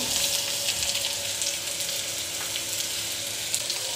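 Chopped onion frying in a hot pan gives a steady, close sizzle with crackling spits throughout, alone and without talking.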